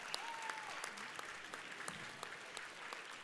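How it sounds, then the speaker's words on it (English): A crowd applauds Team 5520 Aerospace Mecha Jets from Windsor, Connecticut, at a New Haven robotics qualifier: steady, dense clapping throughout, with a brief whistle near the start and scattered sharper claps. "Please, we give a round of applause to Team 5520 Aerospace Mecha Jets from Windsor"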